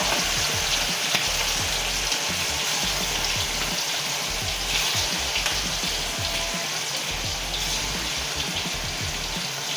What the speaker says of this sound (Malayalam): വെളിച്ചെണ്ണയിൽ പൊരിച്ചാൽ നല്ല രസമുണ്ടാവും ചിക്കൻ